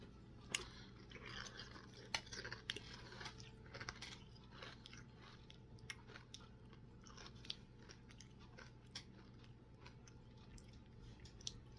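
Close-up eating of strawberries and Special K cereal, with repeated crisp crunches and wet chewing in an irregular rhythm, occasional louder bites and faint utensil clinks, no talking.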